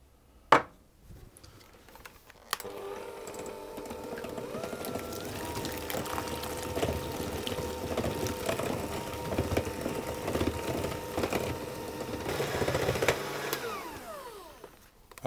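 Eggs are whisked into cake batter for individual pineapple upside-down cakes, a steady whirring mixer drone that starts after a brief knock and runs continuously, close and fairly loud.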